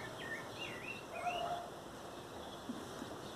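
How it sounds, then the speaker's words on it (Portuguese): Faint song of a rufous-bellied thrush (sabiá) drifts in from a distance in a backyard, a few thin warbling phrases over quiet outdoor background noise. "Tem uma sabiá cantando só."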